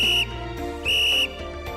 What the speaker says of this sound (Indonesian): tiuplah peluit untuk meminta pertolongan.